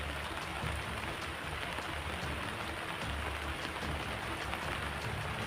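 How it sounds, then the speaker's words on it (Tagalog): Heavy rain pours steadily throughout, a dense continuous hiss of drops with no pauses and no voices. "lakas na ulan."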